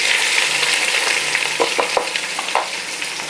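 Chopped ginger, garlic, green chili and shallots frying in oil for a crab roast, with a bright continuous sizzle and a few distinct scraping stirs against the pan, close by.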